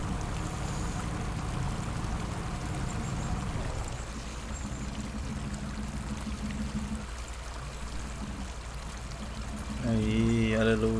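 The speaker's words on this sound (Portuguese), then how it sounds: "Começou até a chover." Rain falling in the off-road driving game Spintires, a steady broadband hiss with a rumbling truck engine underneath throughout, and a louder burst of tonal engine noise near the end.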